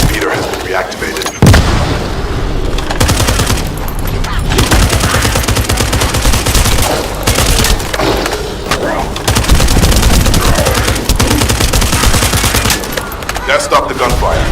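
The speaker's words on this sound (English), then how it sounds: "That stopped the gunfire." Sustained fusillade of gunfire and booming blasts from the shooter video game The First Descendant, loud and continuous with dense overlapping shots, with game voices talking over part of it.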